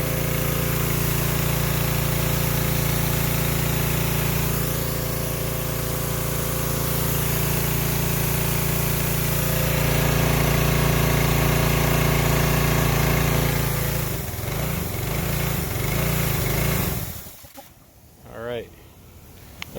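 A Husqvarna 3100 PSI pressure washer's gas engine drones loudly and steadily as its carburetor runs dry, then sputters and fades out near the end, with a voice talking over it.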